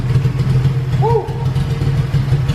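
A Honda Civic Si with a swapped B18C1 engine and Precision turbo idles on a dyno, running rich with a steady, lumpy low rumble that sounds cammed despite stock cams, plus a brief rising whistle partway through.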